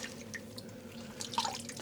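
Water drips and trickles from a skein of cashmere yarn being squeezed out by hand after dyeing. It sounds quiet and close, with scattered small patters and one brighter drip near the end, and no one speaks.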